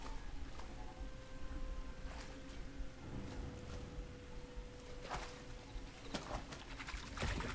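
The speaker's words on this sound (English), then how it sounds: "I'm curious to see where this bird goes." A bird coos a few times in Star Wars Jedi: Survivor, moderately loud and set against a steady bed of in-game ambience.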